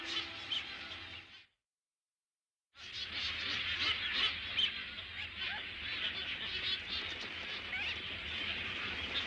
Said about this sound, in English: Clipperton's vast, clamoring flocks of birds, flying like a banner above the island